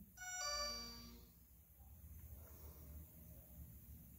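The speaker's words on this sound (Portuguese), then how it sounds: "o tom de notificação também." A short electronic notification chime from an IWO Max or T500 smartwatch rings out alone, a few bright descending tones that fade within about a second into quiet background hiss.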